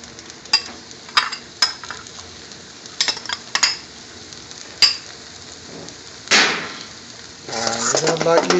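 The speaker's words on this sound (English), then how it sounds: "we're going to tip the tomatoes and coriander in" Tomatoes and coriander tipped into a pan of frying potatoes and green beans, giving a sudden soft sizzle and rustle after several sharp clinks of a utensil, with frying hiss throughout and a burst of stirring near the end.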